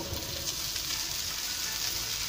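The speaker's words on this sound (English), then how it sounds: "Adding in the poha now" Poha stirred into a hot pan with green chilies and turmeric, giving an even, close sizzle with light scraping from the stirring throughout.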